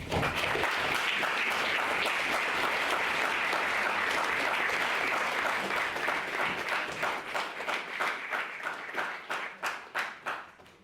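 An audience at a debate on marriage as an outdated concept claps hard at first. The dense, close applause runs for several seconds, then thins into scattered individual claps before fading.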